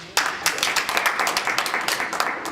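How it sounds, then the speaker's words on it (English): An audience claps for a fire department member at a community anti-violence event, a dense burst of applause that starts abruptly and continues steadily for a couple of seconds. "let's give him another hand of applause for his commitment to the community"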